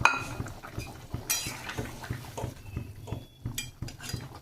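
Eggs slipped into a pot of simmering egg curry seasoned with black pepper, with a run of light clinks and knocks of utensils against the pot at a steady close pace.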